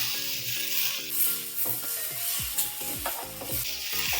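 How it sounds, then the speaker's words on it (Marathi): Tomatoes sizzling as they roast in a pan on high flame, a steady bright frying hiss with occasional clinks and scraping from stirring, close and moderately loud, with no talking. "हा हाय फ्लेमवर भाजतो आपण हाय फ्लेमवर भाजतो"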